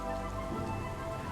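Heavy storm rain pours in a loud, dense, continuous hiss of drops, close and unbroken throughout, with no talking.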